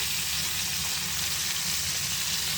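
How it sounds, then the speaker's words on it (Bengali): Sea fish heads fry in a pan with a steady, close hiss and sizzle, continuous and even throughout, with no talk. "এখন মাথাটা ভাজি করছি"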